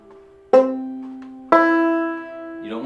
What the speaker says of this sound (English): If you're hitting another string or something, or muting one, it's gonna sound like this.